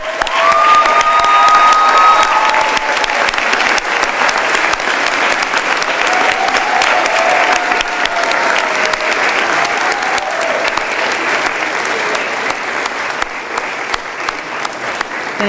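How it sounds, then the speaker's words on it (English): Sustained audience applause at a school commencement for graduates, parents and grandparents, a dense steady wash of many hands clapping at full volume for the whole stretch, easing slightly toward the end, with faint voices and a whistle-like tone early on. "Let's give them a big round of applause."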